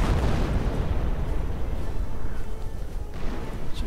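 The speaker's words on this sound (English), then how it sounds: "Lots of artillery." Booming artillery fire and explosions in a World War II strategy game featuring a Hummel and Panther battle groups, forming a dense, continuous low rumble with overlapping blasts throughout.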